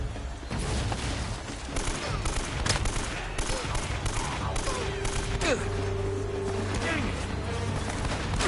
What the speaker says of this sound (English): oh wait, is somebody still shooting at me? Yes, they are.